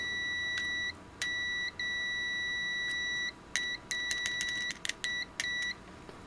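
An AstroAI handheld multimeter in continuity mode beeps on a shorted probe: clear, high electronic tones, first a few longer sustained beeps, then a rapid run of short, choppy chirps as contact flickers.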